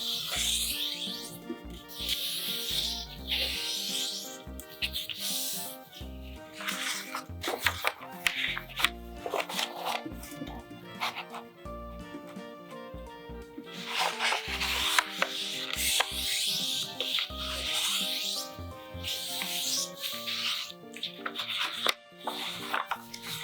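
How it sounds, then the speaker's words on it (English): Square sheets of paper are folded and creased along the diagonals for an origami rose, giving close, continuous rubbing, sliding and crinkling with brisk scraping strokes. "Fold the paper along diagonal line twice to make creases."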